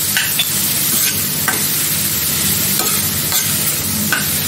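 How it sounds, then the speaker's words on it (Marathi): Onion and green chili sautéed in a pan give a loud, continuous sizzle throughout, with a few brief scraping strokes from a spatula. "थोडंसं अगदी मी परतून घेते कांदा मिरची"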